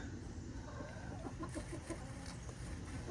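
Young laying hens cluck softly in short, scattered bursts, faint and some distance off against a quiet background.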